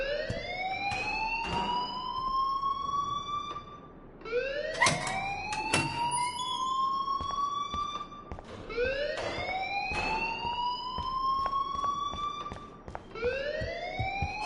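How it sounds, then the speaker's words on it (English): Alarm in a PS4 video game wailing in repeated rising sweeps, each cycle of a few seconds, loud and continuous with sharp clicks between. "please turn off that alarm since that's your job."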